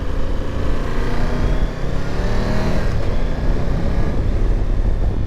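A 2022 Triumph Tiger 1200 GT Pro motorcycle pulls hard in sixth gear, its engine drone steady and loud under heavy wind rush throughout, with no speech.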